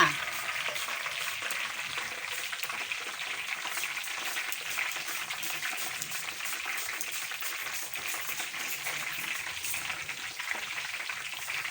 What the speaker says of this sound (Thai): พอน้ำมันเดือดค่ะสไลด์กล้วยลงไปเลยจ้า